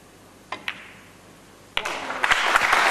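After a few isolated claps, a pool hall crowd at a nine-ball final breaks into appreciative applause that swells and keeps building to the end.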